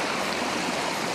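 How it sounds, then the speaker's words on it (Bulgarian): Stream water released from a ravine to drive an old watermill rushes and splashes, a dense continuous roar at close range with no voices. "Сега да пуснем водата, която идва от дерето и след надолу."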